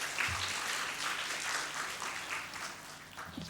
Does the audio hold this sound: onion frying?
no